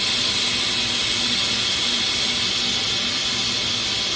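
Steam rushes out through the release lever of a pressure cooker after cooking applesauce, a loud, continuous, steady hiss that fills the whole stretch without pause.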